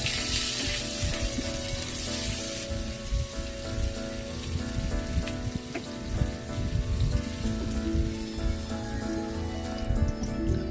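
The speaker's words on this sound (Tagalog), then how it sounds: "nagpagita tayo ng mantika at saka igisa na natin ng bawang. Isunod natin yung sibuyas" Garlic and then onion sautéing in hot cooking oil for a pinakbet, a loud continuous crackling sizzle throughout with scattered stirring scrapes and no voices.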